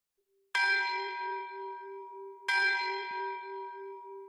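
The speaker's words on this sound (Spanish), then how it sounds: "Con urgencia, hicieron sonar las campanas y enviaron las señales de retirada." A bell is struck twice as a retreat signal, about two seconds apart. Each bright, ringing strike decays slowly over a steady low hum.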